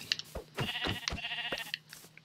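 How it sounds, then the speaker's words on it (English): Sheep in Minecraft bleat in a run of short, nasal calls, several close together and overlapping, moderately loud, with no talking. "Okay, now there's sheep all over us."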